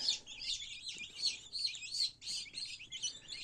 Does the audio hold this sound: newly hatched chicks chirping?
yes